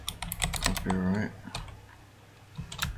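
Typing on a computer keyboard gives quick bursts of close, crisp key clicks, broken up by someone talking over and between them.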